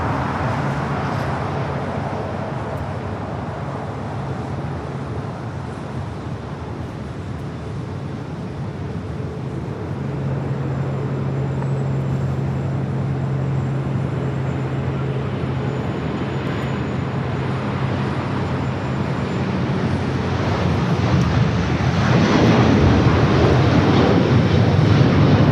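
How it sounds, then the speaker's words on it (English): At LAX a Boeing 787 Dreamliner bound for Tel Aviv rolls down runway 25 right on its takeoff run, a building jet rumble with a low engine tone that grows louder toward the end, heard from a distance. "we do have the Dreamliner heading to Tel Aviv, rolling down at 25 right"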